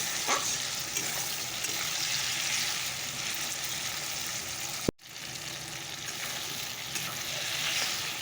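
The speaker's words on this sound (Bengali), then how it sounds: "আলুগুলো একটু ভাজা হয়ে গেলে তারপরে একটু মশলা দিয়ে দেবো" Potatoes fry in a pan with a steady, dense sizzle that holds close and even throughout, broken once by a brief sharp dropout near the middle.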